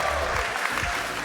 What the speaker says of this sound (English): the people here cheering your name, cheering for you guys